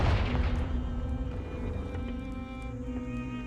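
A Confringo fire spell in Hogwarts Legacy lets off a heavy blast with a strong low boom at the start, followed by a sustained roaring, ringing tail that slowly fades over a few seconds.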